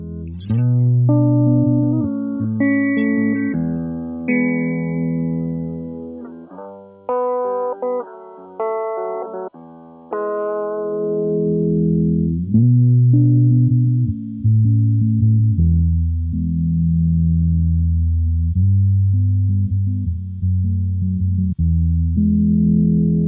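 An electric guitar plays a slow melodic phrase through a Chase Bliss Lossy pedal's inverted filter, which scoops out the selected frequency, giving hollow, shifting, sustained notes.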